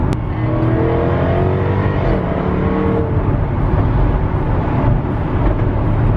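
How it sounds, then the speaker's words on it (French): A Jaguar F-Type SVR V8 engine roars loudly and continuously, revving hard with rising pitch sweeps and a dense, aggressive exhaust growl throughout. "le bruit du V8 qui est sauvage, qui est rageur et qui est plein partout"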